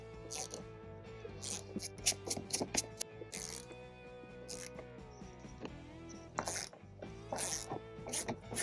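Ratchet wrench with a 10mm socket backing out fasteners during a trailer hitch installation on a Tesla Model Y, heard as bursts of rapid clicking in several spells, close but fairly quiet over a low background hum.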